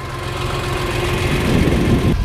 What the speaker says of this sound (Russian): Вот так этот маленький трактор справляется с травой, работает на гербицидке.